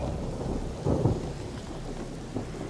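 In A Plague Tale: Innocence, steady rain hisses while thunder rumbles low and muffled in a couple of swells, distant and moderately quiet, with no voices.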